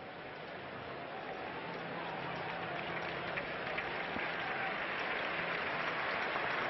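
Crowd at a college football game between Texas and Oklahoma applauds and roars, a steady broad wash of clapping that swells slightly louder over the last few seconds.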